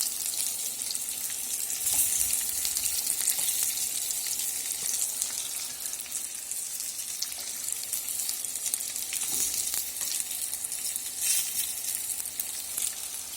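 Chicken pieces frying in hot oil for a homemade fried chicken dish, a steady, loud, bright sizzle that runs without a break, with occasional small crackles and no talk.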